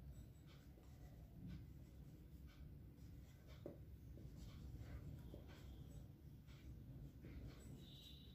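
Pen or marker writing on paper or a board during a math lesson, a quiet, steady scratching with faint strokes over a low room hum, no talking.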